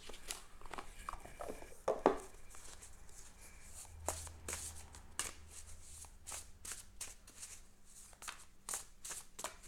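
Tarot cards being shuffled by hand, soft riffles and quick papery slaps and taps in an uneven rhythm, close and fairly quiet, with no talk.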